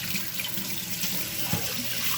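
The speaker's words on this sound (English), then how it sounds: "rinse off my hands" Hands are rinsed under a running kitchen tap, a close, continuous rush of water splashing into a sink, with small shifts as the hands move through the stream. No talk is heard.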